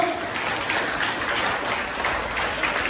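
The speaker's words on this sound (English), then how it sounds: "Give them an applause." Audience applause fills a school assembly hall, steady dense clapping from many hands held at an even level throughout, with no talk over it.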